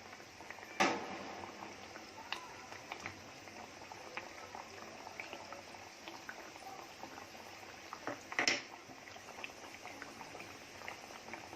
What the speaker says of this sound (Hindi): मीडियम गैस पे आराम से तलने का।